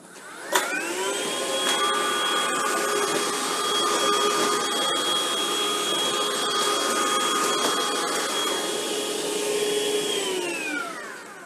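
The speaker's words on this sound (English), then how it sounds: "Now I'm going to turn the vacuum on in hard floor mode" A Hoover ONEPWR Evolve cordless vacuum in hard floor mode whirs up after a click, runs with a steady high-pitched motor whine, then winds down at the end.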